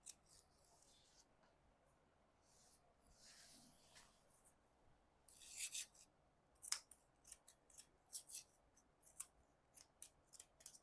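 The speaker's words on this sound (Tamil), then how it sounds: "இப்போ வந்து சுருக்குன்னு கட் பண்ணணும்" Scissors snipping through churidar fabric on a tailoring table, quiet close-up cuts that start soft and sparse, then turn into a quick run of crisp, separate snips toward the end.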